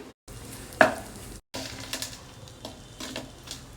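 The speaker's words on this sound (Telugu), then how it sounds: "ఉసిరికాయ అంతా చింతపండు అరకప్పు నీళ్ళలో నానబెట్టి వేసుకోవాలి" Soaked tamarind goes into an amla curry cooking in a pan, giving soft frying sizzle broken by short gaps, with a clunk of it dropping in and a few light scrapes of stirring close by.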